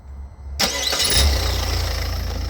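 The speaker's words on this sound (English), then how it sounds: "we're going to start it up now with the crank sensor plugged back in" A Peugeot 3008 engine, its crank sensor just plugged back in, cranks briefly, then catches and settles into a steady, close idle, loud and even.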